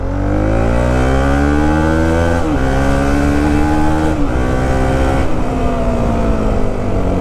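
A Bajaj NS 200 motorcycle fitted with a slipper clutch runs loud and steady, its engine note climbing smoothly, then dropping in quick clutchless downshifts with sharp pitch changes.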